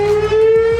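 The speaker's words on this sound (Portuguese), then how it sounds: "tu tá no avião e vem uma sirene de queda de avião" A steady, loud, wailing warning siren sounds for a short burst, meant as an airplane crash alarm, holding one sustained tone alone without voices.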